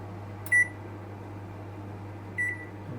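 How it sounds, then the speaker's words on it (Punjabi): A microwave oven's keypad beeps twice, short electronic tones spaced about two seconds apart, over a steady low appliance hum while convection temperature is set; no speech. "ਹੁਣ ਫਿਰ ਤੋਂ ਕਨਵੈਕਸ਼ਨ ਠੀਕ ਹੈ ਤੇ ਟੈਂਪਰੇਚਰ ਪਲੱਸ ਪਲੱਸ"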